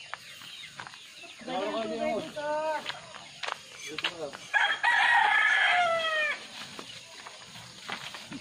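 Laying hens and a rooster cluck and crow close by in a backyard flock, with repeated bursts of calls including a loud crow, and people talking now and then.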